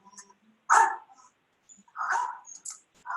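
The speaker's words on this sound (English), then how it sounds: "There's some barking going on." Dog giving a few short, sharp barks at close range, three separate loud bursts with quiet gaps between them and some faint yips in the background.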